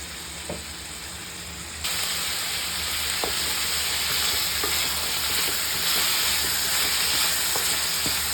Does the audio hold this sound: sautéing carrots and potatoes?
yes